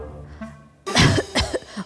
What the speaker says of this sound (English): took one sip and started coughing